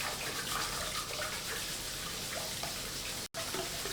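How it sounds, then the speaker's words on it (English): Water being tipped out of a pan of rice in a home kitchen, a steady close pouring and splashing flow that runs almost without pause, broken by a brief cut near the end. "I'm just going to tip the water out of the pan and start again"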